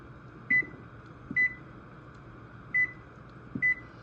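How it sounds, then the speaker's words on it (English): Four short, high electronic beeps sound at uneven intervals from a kitchen timer over a faint steady hum while Brussels sprouts boil in water. "We're gonna set our timer for about 10 minutes."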